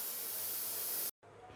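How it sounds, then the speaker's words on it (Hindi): A pressure cooker whistle releases steam while chicken steam roast cooks, a loud continuous hiss that stops abruptly, followed after a short gap by a fainter steady hiss. "विसल बजना शुरू हो गई है"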